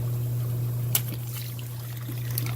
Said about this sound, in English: I'm gonna take the water bottle, give it a downward slash